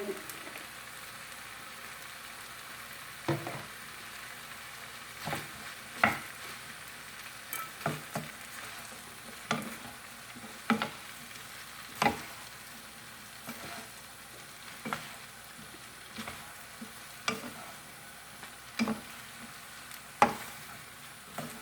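Cabbage with glass noodles and minced pork stir-fried in a pan, a steady low sizzle broken by repeated sharp scrapes and clacks of a utensil stirring the food, close and moderately loud with no talk.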